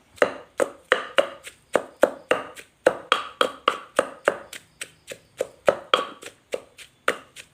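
Mushrooms, including hed khap khai, being pounded with a pestle into Thai chili paste in a mortar, a steady run of sharp, close wooden thuds repeating about three times a second, no talk.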